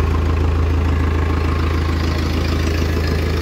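A second-hand tractor with a side-shift gearbox runs at a steady idle close by, a continuous low, throbbing engine drone with a regular rhythmic pulse and no talk over it.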